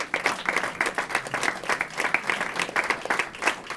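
Sustained audience applause at an awards reception, a dense steady patter of many hands clapping, moderately loud and continuous throughout without a break.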